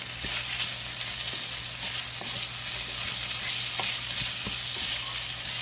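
Bacon stirred in a pot for corn chowder sizzles steadily and close up, a continuous frying hiss with scattered light scrapes and pops from the spoon, and no voices.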